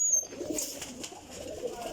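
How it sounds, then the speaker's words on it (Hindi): Pigeons, high-quality flying breeds, coo softly in a low murmur at a distance, faint and continuous, with light background noise. "देखो कबूतर"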